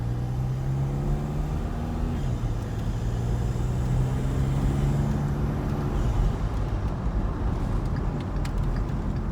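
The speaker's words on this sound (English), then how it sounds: "Nice little spool noises." VW TDI car fitted with a Kerma turbo inlet pipe, cruising with windows down: steady engine drone with rising and falling turbo whine layered over road noise, close and continuous.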